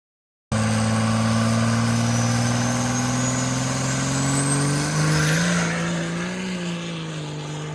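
A heavy diesel school bus engine drones steadily from inside the moving bus at about 65 mph, loud and close, its pitch slowly climbing and then settling, with no talking.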